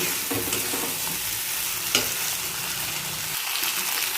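Poppy seed and cashew paste stirred in a hot pan, a steady close sizzle with soft scraping strokes and one sharper clink partway through, no voices.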